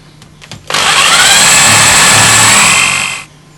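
Power drill boring about half an inch into a Windsor chair part made of yew or ash, one loud, close, continuous whine lasting around two and a half seconds before winding down.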